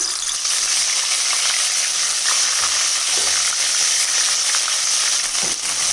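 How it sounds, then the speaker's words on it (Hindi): Steady, loud sizzling of garlic frying in hot oil, a continuous crackling hiss with a few faint clinks, no talking. "अच्छे से भून गया है लहसुन"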